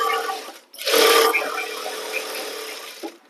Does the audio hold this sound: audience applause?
no